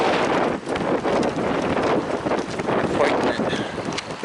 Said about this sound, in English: I'll be out of the wind.